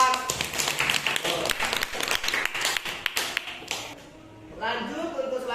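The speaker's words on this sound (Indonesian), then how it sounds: "Tepuk tangan untuk kelompok 4." A classroom of students applauds a presenting group during an Islamic jurisprudence lesson, a dense burst of close clapping lasting about four seconds before it fades and a voice begins speaking.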